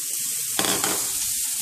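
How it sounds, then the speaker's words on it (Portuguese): Onion frying in olive oil gives a steady broadband sizzle, with a brief louder burst of crackling partway through, close and alone without talk. "a gente vai simplesmente fritar a cebola aqui no azeite"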